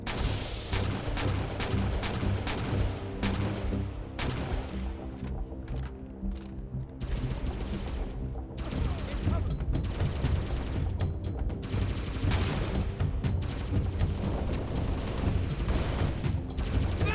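Gunfire in the video game Halo Reach with the Mythic Overhaul mod, rapid repeated shots and bursts rattling steadily over a low rumbling battle backdrop, mostly without voices.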